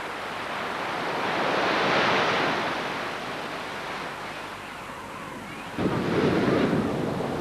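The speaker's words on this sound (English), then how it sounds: "By midday, the surf is up again." Ocean surf rolls onto the shore in a steady, loud wash of breaking waves, swelling and easing, with a fresh wave crashing in near the end.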